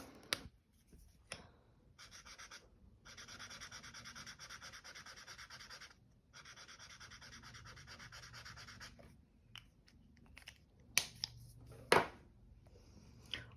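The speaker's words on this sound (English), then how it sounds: "I love the sound of the nib on the paper, but also the click of the pen lids." A Winsor & Newton Pro Marker nib rubs across paper in several long scratchy strokes separated by pauses, close and quiet, ending with a few sharp clicks.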